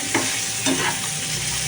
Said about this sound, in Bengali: উচ্ছে ভাজা আমার হয়ে এসছে প্রায়